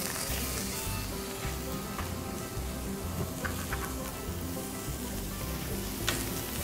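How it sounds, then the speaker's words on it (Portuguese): Picanha beef sears in a frying pan, a dense, even sizzle with fine popping spatters running steadily throughout, close up, with a faint low hum underneath and no talking. "Tô selando para fechar os poros."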